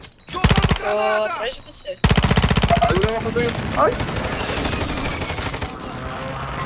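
Rapid automatic gunfire in Call of Duty Warzone, two sharp bursts of fast shots followed by scattered shots and explosions, with players talking briefly over the action.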